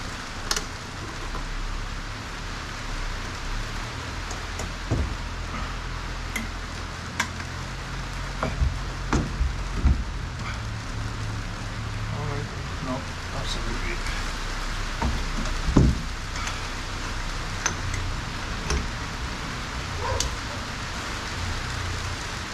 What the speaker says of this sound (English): It's been absolutely torrential rain here at sunny Stottenclough.